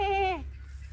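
A single short goat bleat on a farm in the United States, with a wavering, nasal tone that drops off after half a second, leaving quiet outdoor background.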